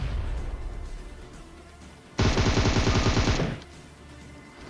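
A burst of automatic gunfire in PUBG, the battle royale video game, rattles out loud and rapid for about a second and a half, cutting in sharply over quieter game ambience and stopping just as abruptly.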